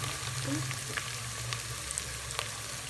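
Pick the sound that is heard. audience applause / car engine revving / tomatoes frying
tomatoes frying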